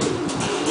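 Gaditano pouter pigeons coo in a loft, a low, throaty, continuous burbling that sits close and fairly loud over a soft airy background.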